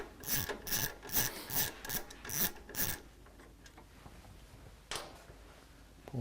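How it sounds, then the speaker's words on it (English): A ratchet backing out motorcycle dash bolts, its close, rhythmic clicking in about seven quick bursts, then stopping, followed by quieter handling noises and a single brief knock. "Take the center bolt out of here for the dash so that I can get to this bolt over here."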